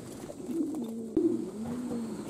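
Pigeons cooing beside a puddle outdoors, a few soft low rolling coos repeating over steady background hum, with one brief sharp knock partway through.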